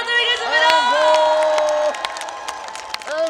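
Open-air festival audience at a trot singer's show cheering with long, tonal shouts while sharp, scattered handclaps pop through, lively and near, tapering briefly before another rising cheer.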